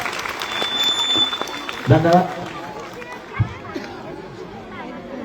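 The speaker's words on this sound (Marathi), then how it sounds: "खरंच जोरदार टाळ्या होते" A crowd applauds after a tableau performance at a Shri Bhairavnath temple festival marking the temple's first anniversary, clapping and murmuring beneath a voice speaking over a loudspeaker.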